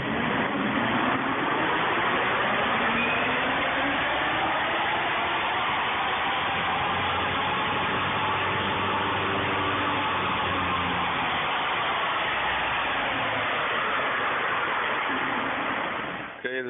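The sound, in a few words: electric car accelerating on a second gear run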